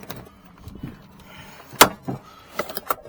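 Plastic interior door panel on a 2010 Chevy Avalanche LTZ pried up and lifted off, with a sharp snapping crack of clips releasing followed by a few lighter clicks and rattles, close and alone.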